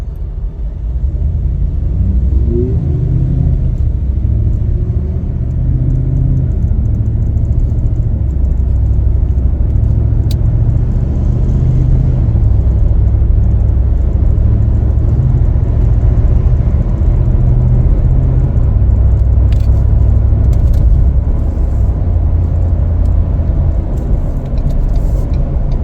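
Steady low engine rumble and road noise from inside a moving 2022 Ford F-250 XLT Crew Cab 4WD pickup truck, continuous and fairly loud with no talking.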